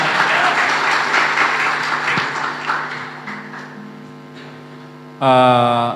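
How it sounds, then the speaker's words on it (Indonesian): Audience applause for the moderator at a student-run talk event, a broad burst of clapping that gradually thins and fades, then gives way to a loud electronic tone at the end. "Tepuk tangan dong buat moderator."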